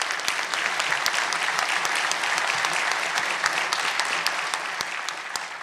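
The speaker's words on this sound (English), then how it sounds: "Let's give him a round of applause." Steady applause from an audience at a governor's energy investment announcement fills the room, dense and continuous with crisp individual claps throughout, with no voices over it.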